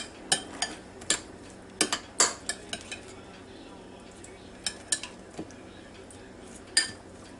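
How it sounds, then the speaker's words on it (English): Potato salad ingredients stirred in a bowl, with irregular sharp clinks and taps of a utensil against the dish in scattered bursts, and a brief word spoken. "All of the items are going to be mixed up here, stirred up, incorporated"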